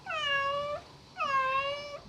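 Cartoon cat meowing: two drawn-out, tonal meows separated by a short pause, clear and close with no talk over them.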